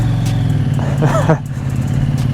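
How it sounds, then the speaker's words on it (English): A Husqvarna motorcycle fitted with a Remus exhaust, its decibel killer removed, gives a single sharp rev that rises and falls within about a second over a steady idle, loud and close. "Especially the sound after removing the decibel killer in the Remus exhaust."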